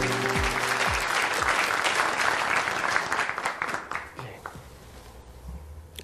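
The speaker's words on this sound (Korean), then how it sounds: "큰 박수로 환영해 주시기 바랍니다." Audience at a political party convention applauding a speaker taking the stage, a dense, sustained roar of clapping from a large crowd that gradually thins out toward the end.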